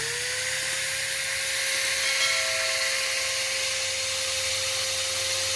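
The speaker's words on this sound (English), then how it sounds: "Thought we'd take some 400 grit, clean that up a little bit" A rusty part from a purple Hoover WindTunnel self-propelled vacuum cleaner being cleaned up with 400 grit sandpaper on a steady, high-pitched powered tool that whines continuously and loudly, with a sustained tone running throughout and no voices.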